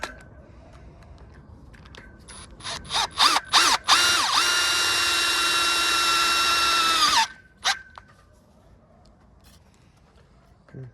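A screw gun drives self-drilling tech screws into an industrial gate: a few short whirring bursts, then one long steady high whine of about three seconds ending abruptly, close and loud.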